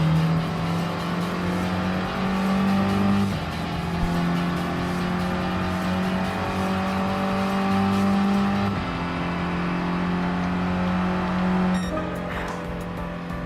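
The Abarth 1500 Biposto Bertone B.A.T 1 race car in Gran Turismo Sport hums with a loud, steady engine drone through a final turn. Pitch shifts occur a few times, as if changing gears, with no talk.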